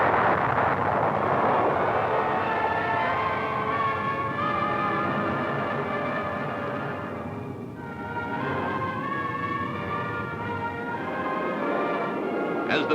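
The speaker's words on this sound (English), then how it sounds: "With the thrust of 4 powerful engines now fully unleashed" Four jet engines of a Convair B-58 Hustler bomber in flight during the 1962 Bendix Trophy race, a steady loud broadband roar that holds for the whole stretch with only a slight dip midway.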